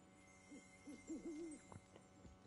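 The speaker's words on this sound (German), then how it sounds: "Genau, Eulen von Hogwarts." Owls in the game Hogwarts Legacy hoot in a short series of soft, wavering calls, mid-distance over a quiet ambient background with a few faint knocks.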